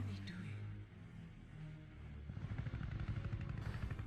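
A helicopter in The Matrix Resurrections film gives off a low, continuous rotor drone that swells into a louder, rapid chopping pulse in the second half. Voices are heard faintly underneath.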